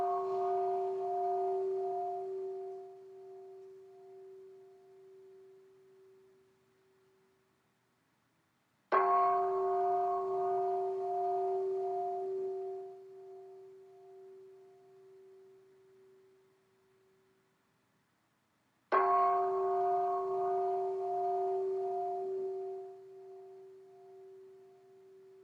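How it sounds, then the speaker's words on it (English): Mindfulness bell struck three times roughly nine seconds apart, each strike a clear pure ring that decays slowly into silence. "This is the mindfulness bell."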